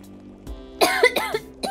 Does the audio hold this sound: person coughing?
yes